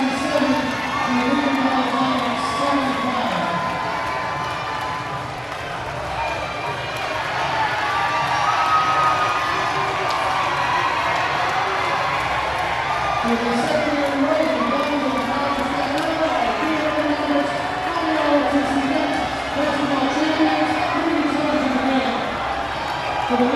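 Staten Island fans fill a college gym after a CUNYAC men's basketball championship win, a sustained roar of cheering and whooping with shouts rising and falling, an announcer talking over the crowd.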